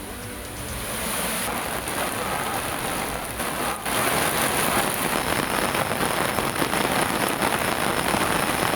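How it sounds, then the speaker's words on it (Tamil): Steady rain pours down around the Tirupati Ezhumalaiyan hill temple, a dense, continuous hiss of drops hitting surfaces that swells slightly louder after a few seconds, with no voices. "திருப்பதி ஏழுமலையான் கோயிலை சுற்றி 1 மணி நேரம் மழை பெய்தது"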